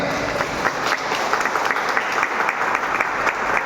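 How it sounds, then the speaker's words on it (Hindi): A crowd at a rural BJP gathering in Bazpur, Uttarakhand, claps loudly and steadily for MP Ajay Bhatt, a dense sustained applause with no voices standing out. "एक बार मैं चाहता हूं कि माननीय अजय भट्ट जी के लिए एक बार जोरदार ताली बजा सकते हैं क्या?"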